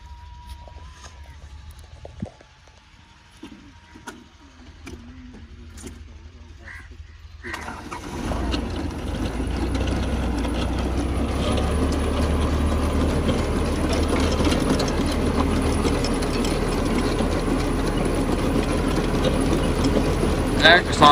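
A tractor-driven swing potato digger starts up in a field after a quiet stretch with a voice, then runs as a loud, steady mechanical rumble and clatter.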